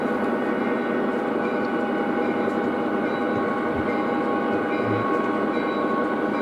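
An O gauge model hopper train rolls steadily into a siding on a home layout, a continuous close rumble and whir of small wheels and motor with a faint low thump partway through, no voices.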